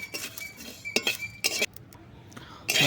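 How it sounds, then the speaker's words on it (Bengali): Cumin and fennel seeds dry-roasting in a pan, with a spoon or spatula clinking against the metal in short irregular bursts over a faint background hiss, close and fairly loud. "জিরে মৌরি আমি ভালো করে ড্রাই রোস্ট করে নেব"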